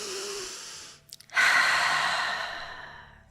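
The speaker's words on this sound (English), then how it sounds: "take in a few more deep breaths." Slow deep breathing during a yoga stretch for the low back: a long soft exhale, a brief pause, then a fuller, louder breath that swells and fades, close and alone with no talk.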